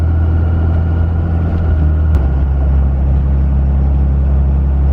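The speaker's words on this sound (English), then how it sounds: "we're going up a hill, so it needs a little more power to get up. Engine gets a little louder" A second-generation Cummins diesel truck engine drones loud and steady while climbing a hill at about 50 mph, its low note stepping down once as it keeps pulling under load.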